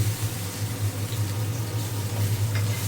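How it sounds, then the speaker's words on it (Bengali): Chili chicken sizzling in a pan on a home stove, a steady close crackling fry over a low constant hum, moderately loud throughout with no talking. "এটা ভালো করে ভাজতে হবে।"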